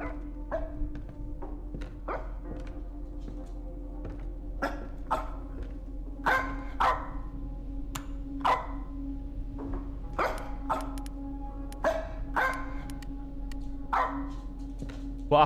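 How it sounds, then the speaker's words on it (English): A dog in a horror video game barks repeatedly, sharp irregular barks and yips spread across the stretch over a low steady hum, fairly close and with no talk. "Dog, where's the dog at?"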